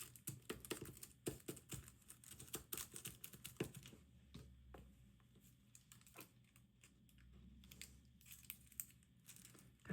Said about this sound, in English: I like to lay this down and then kind of crumple it up like this.